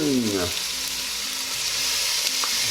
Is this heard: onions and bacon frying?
yes